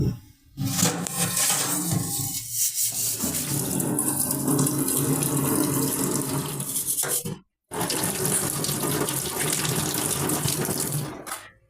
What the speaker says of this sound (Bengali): দুপুরে রান্না শেষে যতগুলো বের হলো সবগুলোই মেজে ফেলতেছি